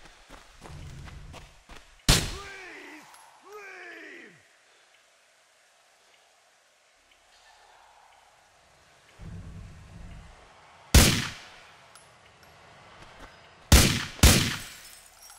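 Several sharp, loud pistol shot cracks in the video game GTA IV, one early and a tight cluster near the end, with quieter shuffling and a brief voice between.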